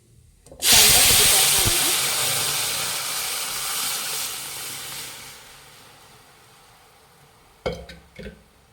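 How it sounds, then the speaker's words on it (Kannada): Mustard seeds and cumin hit hot oil for bele sambar, setting off a loud, sudden sizzle that slowly fades over several seconds, followed by a couple of brief clatters near the end. "ಎಣ್ಣೆ ಬಿಸಿಯಾಗಿದೆ ಸಾಸಿವೆ ಜೀರಿಗೆ ಹಾಕ್ತಾ ಇದ್ದೀನಿ"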